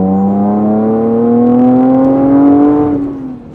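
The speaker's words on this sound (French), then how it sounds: "c'est vrai qu'on entend bien le compresseur" A supercharged Lotus Evora S tuned to 450 hp, its supercharger whine rising steadily in pitch over the engine's loud, smooth drone, then easing off near the end, close and continuous with no talk.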